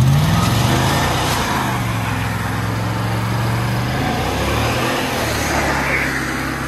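A van engine revs hard at full throttle with a sustained, loud drone. Its pitch swells and dips as the tire spins suspended, and no one speaks.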